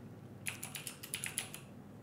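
Rapid keystrokes on a computer keyboard type a file name, a quick run of about eight to ten close, crisp clicks lasting roughly a second within a quiet room.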